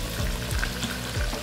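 Shredded cabbage added to chicken frying in a pot gives a brief crackling sizzle with stirring scrapes, close and moderately quiet, no voices.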